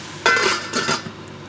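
A lid clatters onto a pan of Bengali-style cabbage, with two close metallic knocks and light scraping, over a soft sizzle.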